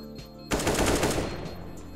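Rapid automatic gunfire in CS:GO breaks out abruptly after a brief quiet moment, a dense, loud burst of shots that keeps going and slowly tails off.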